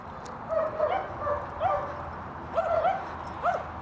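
A dog whimpers and yips in short, high, pleading bursts, several separate cries spaced over a few seconds, close by and with no one speaking.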